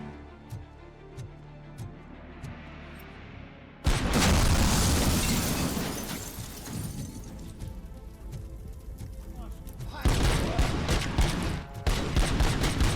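Automatic gunfire from an auto-fed weapon in RoboCop: Rogue City, a video game. Loud rapid bursts of shots and booms come up close, with a dense first burst, then a quieter stretch and more bursts toward the end, over a backdrop of game music.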